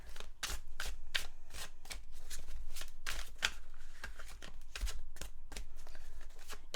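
A deck of tarot cards is shuffled by hand in a series of quick riffling bursts, each a sharp crisp flutter, repeating irregularly and close up with no talking.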